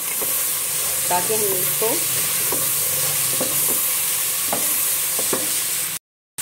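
Vinegar and soy sauce sizzle loudly in a hot pan with carrots, with a steady frying hiss and repeated scraping stir strokes throughout, and someone briefly speaking over it.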